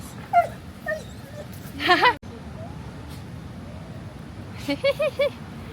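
A dog whimpers and yips in short high whines, a few soft cries spaced apart with a brief louder burst, over low background rumble.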